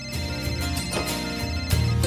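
A phone ringtone plays a repeating electronic melody, loud and close, with no voices over it.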